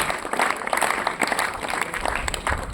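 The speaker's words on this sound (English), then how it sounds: "Give a big round of applause for them." Applause at a math quiz competition, a brief burst of clapping from a modest group of listeners.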